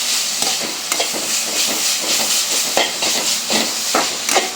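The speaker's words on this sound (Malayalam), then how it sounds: "ചെറിയൊരു മസാല എല്ലായിടത്തും ഒന്ന് പിടിക്കുന്ന രീതിയിലൊന്ന് മിക്സ് ചെയ്യുക." Noodles are stirred with tomato paste and meat masala in a hot pan, with a constant sizzling hiss broken by repeated scraping and tapping of the spoon against the pan, close and loud.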